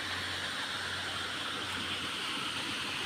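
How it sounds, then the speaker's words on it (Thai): Water rushes down a waterfall in a cool, shaded forest, a constant broadband roar, steady and fairly loud with no pauses. "เสียงน้ำไหลค่ะทุกคนน้ำตก"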